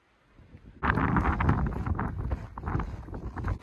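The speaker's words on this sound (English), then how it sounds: "it's so windy and cold" Strong wind gusts roar across an exposed, cold winter mountain summit in the White Mountains near a lookout tower, with buffeting rumble on the microphone that begins abruptly after a quiet moment and continues in uneven surges.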